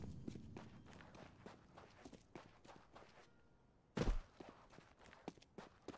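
Footsteps of a player character running back in the game CS:GO, a quick, even patter of steps with one heavier thud midway, fairly quiet and with no talk.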